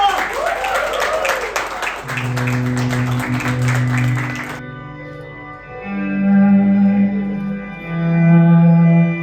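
A studio audience claps to welcome rap guests onto a podcast, a burst of applause that cuts off abruptly halfway, followed by sustained musical tones with reverb.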